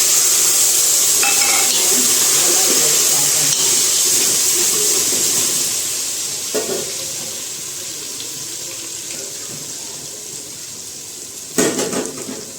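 Mustard seeds, cumin, asafoetida, ginger-chilli and tomato frying in hot oil while making a spinach and mung bean curry, a steady broad sizzle that starts loud, eases off midway, then flares briefly with a sharp burst near the end.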